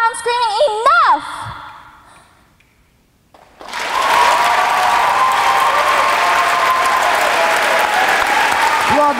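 A crowd at a youth poetry slam bursts into loud, sustained applause for a poet after a voice finishes speaking, the clapping and cheering filling the room steadily to the end.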